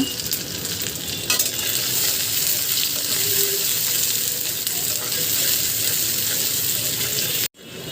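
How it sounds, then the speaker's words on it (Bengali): Chopped onion and garlic cloves sizzle steadily in hot oil for fish being cooked, a continuous loud frying hiss with occasional stirring, ending in a brief cut near the close. "তেল গরম হয়ে গেছে, পেঁয়াজ কুচিটা দিয়ে দিলাম, সাথে কিছু রসুনের কোয়া"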